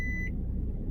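A microwave oven in a truck driver's cab gives a single short, high-pitched electronic beep over a low engine rumble, then falls silent.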